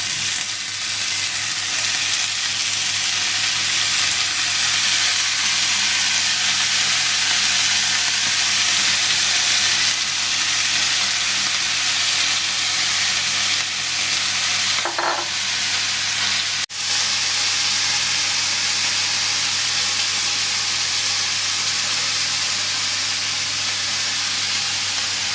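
Val papdi beans fry in a pan with a loud, steady, close sizzle that fills the whole stretch, broken by one brief scrape of stirring.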